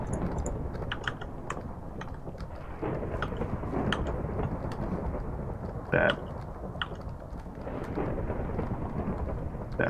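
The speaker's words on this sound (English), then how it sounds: "That thunderstorm is not gonna help with the hearing." Thunder and steady rain from a Minecraft UHC match fill the scene, a continuous rumbling storm bed with a sharper thunder crack midway, while keyboard clicks tap along on top.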